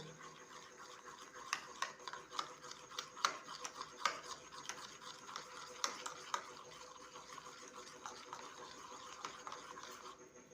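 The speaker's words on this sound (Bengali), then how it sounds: "ভালো করে অয়েলটাকে ডিমের সাথে মিশিয়ে নেব" Two tablespoons of refined oil being stirred into well-beaten eggs in a bowl, a quiet, steady scraping and tapping of the utensil with soft irregular clicks, close up and alone.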